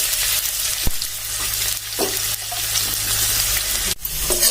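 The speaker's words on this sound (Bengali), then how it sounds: "এটা একটু ভালো করে ভেজে নেব এটা একটু ভাজতে সময় লাগবে যেহেতু আলুগুলো একটু মোটা মোটা করে দেওয়া আছে" Thick potato pieces and jackfruit seeds frying in oil give a loud, continuous sizzle and crackle, with occasional clacks of a stirring utensil and a brief dip in the noise near the end.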